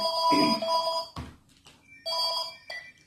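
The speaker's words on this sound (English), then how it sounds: "Phone calls." A telephone ringtone sounds in two loud electronic bursts separated by a short gap, a harmonic ringing pattern heard alone with no talk.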